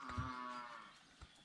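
A carabao (water buffalo) lets out a low, drawn-out moo that rises and fades over about a second, followed by a brief grunt, fairly distant in an open outdoor setting.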